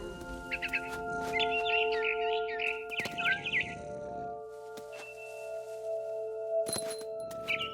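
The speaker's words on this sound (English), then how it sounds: "Then I heard chirping outside my window. It was a barn swallow going back to her nest." A barn swallow chirps in rapid twittering bursts inside the video game What Remains of Edith Finch, clear and close over a steady game ambience, with a few sharp clicks and a brief high chirp near the end.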